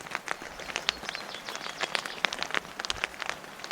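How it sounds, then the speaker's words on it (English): Cold, icy rain falls on a bush camp in the sub-arctic wilderness, with irregular close drops pattering and ticking on a tent or tarp against a soft wash of background noise. "We woke up to Cold, icy rain."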